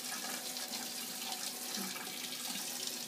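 Tap water runs steadily into a sink as it warms up for a bread dough recipe, a constant close hiss and splash with no voices.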